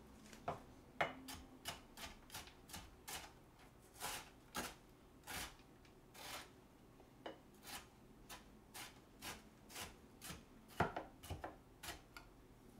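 Green onion is minced with a knife on a cutting board for steamed egg, in a steady run of quick, crisp chops that repeat about every half second. The chops are close but soft, and there is no talking.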